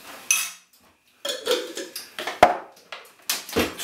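A spoon stirs honey into roasted red pepper soup in a pot, with scattered scrapes and clinks against the side, close and moderately loud after a short pause.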